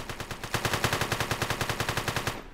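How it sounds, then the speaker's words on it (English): Rapid automatic gunfire in the bank-robbery video game One Armed Robber, a loud, fast, evenly spaced burst of shots that runs steadily before cutting off at the end. "The gunfire has stopped."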